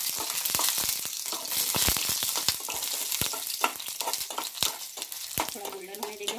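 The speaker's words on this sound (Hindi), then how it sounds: "गोल्डन होने देंगे हमारी लहसुन की कलियों को।" Finely chopped garlic cloves fry in hot oil as a tempering for momo chutney, giving a steady crackling sizzle punctuated by sharp clinks and scrapes of stirring, close and moderately loud.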